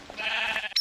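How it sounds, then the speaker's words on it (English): A single short bleat from a sheep in the Minecraft Tekkit mod, a brief nasal wavering cry that ends in a higher squeak. "Ooh, sheep."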